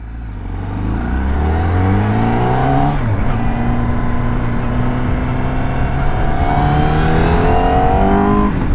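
A Honda CBR1000RR-R SP superbike engine revs and accelerates with rising, gear-stepped tones, loud and close throughout with no talk.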